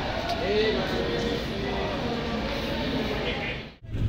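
A moving sleeper-class express train gives a steady, loud rumble and rattle that runs without a break, then drops away abruptly near the end.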